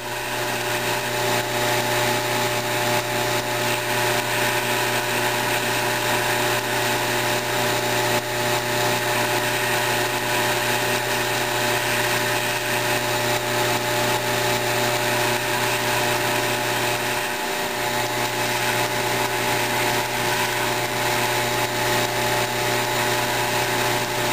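A grinder works steel on a forged EDC knife, relieving the back of the blade: a steady, loud, continuous whine with a constant motor hum, running unbroken and alone for the whole stretch.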